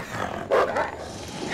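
A wolf in the video game Until Dawn gives a brief, rough growl or snarl, a short burst rising over a murky game background, fairly close and alone without speech.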